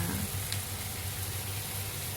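Chopped spinach sizzling in a pan of melted butter with softened onion over low heat, a close, steady frying crackle with faint stirring and no talk.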